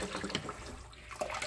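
Water runs from a tap into a pail for a freshly lambed ewe on a sheep farm, a close, uneven splashing gurgle that dips briefly midway before picking up again.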